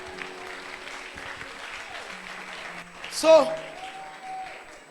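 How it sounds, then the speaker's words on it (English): A church congregation claps for a man during a sermon, a soft wash of applause with a preacher's voice speaking over it and a brief loud shout near the end. "Clap for him."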